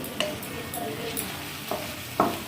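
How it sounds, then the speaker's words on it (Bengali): Cashews, green chilies and other ingredients frying in butter while being stirred, a soft sizzle close by with intermittent scraping clinks of a utensil against the pan. "বাটারের মধ্যে সব উপকরণগুলোকে সামান্য নেড়ে চেড়ে"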